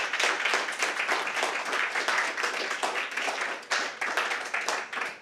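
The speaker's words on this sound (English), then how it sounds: "a big round of applause for Rodrigo." Sustained applause and clapping from a conference audience at PyCon Italia 2024 closing a session, dense and steady throughout with no break, loud and close.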